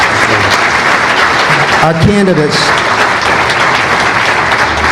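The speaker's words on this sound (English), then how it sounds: "Everyone, let's give a great round of applause." Applause from a crowd at a Kansas political event for gubernatorial candidates, a dense, continuous roar of clapping filling the whole stretch, with a voice briefly speaking over it.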